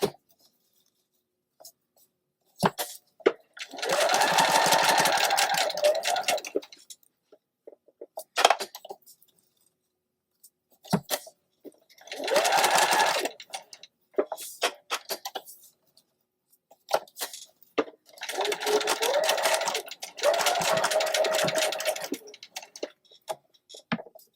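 A sewing machine stitching curves runs in three short bursts separated by quiet stretches, with scattered clicks and handling noises between the runs.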